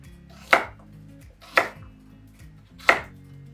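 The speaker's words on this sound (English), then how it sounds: "I'm gonna cut it up into kind of bite-sized pieces" A knife chops beets into bite-sized pieces on a cutting board: three sharp, evenly spaced chops about a second apart, close and clear, with no voices.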